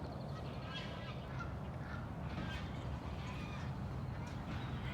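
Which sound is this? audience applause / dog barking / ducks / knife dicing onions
ducks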